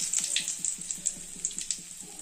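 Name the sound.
mustard seeds and curry leaves sizzling in oil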